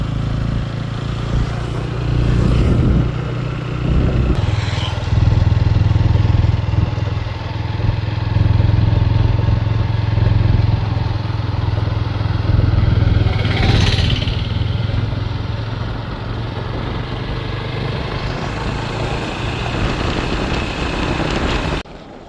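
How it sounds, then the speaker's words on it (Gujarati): A tractor engine runs steadily throughout, a loud low chugging drone close by with some rattling clatter and no talk over it. "ટ્રેક્ટર"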